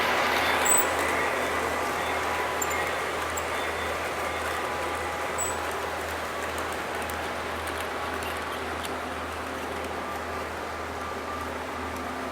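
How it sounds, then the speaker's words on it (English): An Amtrak passenger train speeds by, a sustained rushing roar of rail and wheel noise that stays loud and steady before easing a little toward the end, with no talking. "Amtrak train's in a hurry."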